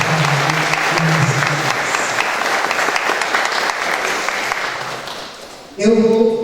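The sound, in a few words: applause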